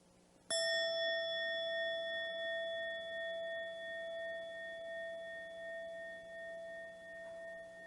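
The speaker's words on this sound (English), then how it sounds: "it's time for you, the bell master, to invite the first full sound" A meditation bell struck once for its full sound, ringing out with a sharp attack and a long, steady, shimmering tone that sustains clearly and fades only slowly in a quiet room.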